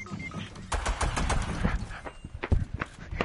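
Rapid bursts of dual pistol gunfire in a video game, sharp cracks in irregular clusters with scuffling sounds between them, moderately loud and mostly without voices.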